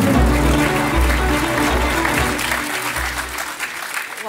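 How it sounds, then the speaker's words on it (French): Audience at a packaging award ceremony applauds, a dense steady wash of clapping from many hands that carries on for several seconds and begins thinning toward the end. "On peut les applaudir."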